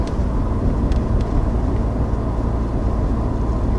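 Steady, loud road and engine drone inside a 2020 Ford F-150 Raptor or Toyota Tundra TRD Pro cruising in eighth gear at about 30 mph, a continuous broadband rumble with no voices.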